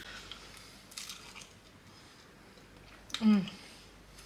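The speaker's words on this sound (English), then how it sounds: "So, you can hear the crunch on them." Someone bites into air-fried frozen M&S roast potatoes, giving one brief, sharp crunch close to the microphone, followed by a short murmur after quiet background room sound.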